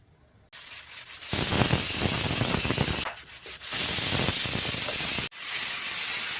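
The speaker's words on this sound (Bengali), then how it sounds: "মুগ কলাইটা আমি দুটা সিটি দিয়ে নামিয়ে নেব" A pressure cooker boiling soaked mung beans lets off steam in loud, sharp hissing bursts that start abruptly, drop briefly twice and resume, sounding close with no voices over them.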